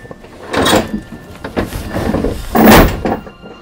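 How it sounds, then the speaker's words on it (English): A three-quarter-inch plywood drop wall on chains slides fast down two closet door tracks, giving loud rumbling, scraping bursts that end in a heavy crash near the close. "We take a 3/4 ply and we run it down the tracks with some chain. It falls very fast and very loud"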